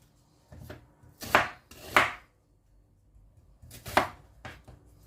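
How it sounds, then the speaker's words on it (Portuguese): Knife blade chopping an onion on a cutting board, a handful of sharp, close chops in two quick pairs with a pause between, followed by a few lighter taps. "vou fritar isso aqui agora, cortar uma cebola"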